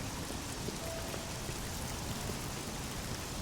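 Steady rain pours in the coastal city of Anvil in the Oblivion video game, a dense even hiss of falling drops with no break, fairly loud and alone.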